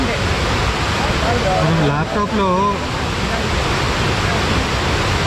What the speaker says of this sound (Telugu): అలా స్టెప్స్ లాగా కారుతుంది కదా వాటర్